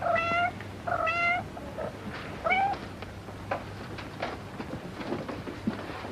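Several kittens meow in short, high, plaintive cries, a couple of clear calls near the start followed by fainter, scattered mews over a quiet room background.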